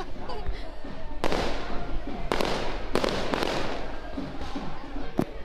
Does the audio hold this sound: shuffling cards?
no